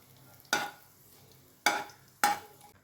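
Three sharp bursts of sizzling as chopped dried chillies drop into hot oil, each fading over a second, with quiet gaps between.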